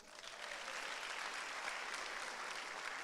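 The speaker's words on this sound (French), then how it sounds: "Oh, acclamons pour eux." A church congregation applauds at an evening service: a steady, dense wash of clapping from many hands, moderately distant and continuous throughout.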